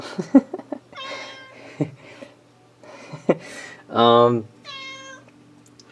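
A house cat meows repeatedly, several short calls and one loud drawn-out meow close by, among quieter indoor sounds.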